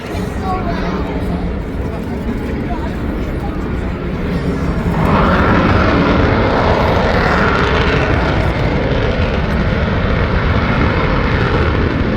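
A loud, roaring airplane engine close by at the Camarillo air show, its pitch and power swelling midway as it climbs, with a voice talking over the noise.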